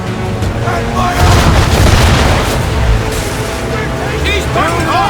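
Ship cannon fire in Assassin's Creed 3, heavy booming blasts rolling together in a loud, dense naval battle with shouting voices over the din.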